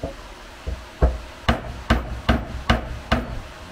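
Hammer tapping a greased pin into an A-arm bushing on a RZR Pro XP, eight sharp metallic knocks spaced about half a second apart, starting light and growing firmer, close up with no talking.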